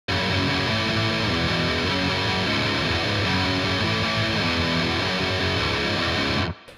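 Heavily distorted electric guitar plays an intro riff unmuted, a loud, dense, continuous wall of ringing notes lasting several seconds before stopping abruptly.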